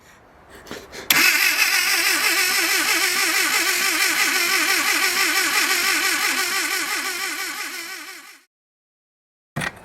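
Old 1600 car engine starting after sitting 30 years: a few cranking bursts, then it catches and runs with a loud, steady, slightly uneven idle for about seven seconds before cutting off abruptly, followed by a brief thump.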